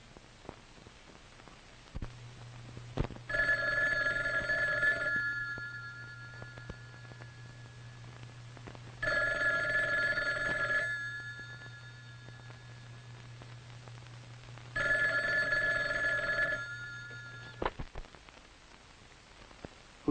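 An old telephone in a 1957 film rings in three long bursts of electric ringing, evenly spaced about six seconds apart over a low steady hum and faint hiss, with no voices.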